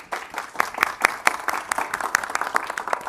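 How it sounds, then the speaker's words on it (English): Scattered clapping from an audience at a business event with Secretary Pete Buttigieg, brief moderate applause with distinct individual claps, fairly close, lasting about three seconds. "How about we give another round of applause to the Secretary and Mr. Morial?"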